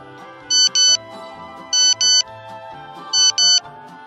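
A mobile phone ringtone in a classroom, three evenly spaced pairs of bright electronic trill bursts over a soft background melody, loud and close.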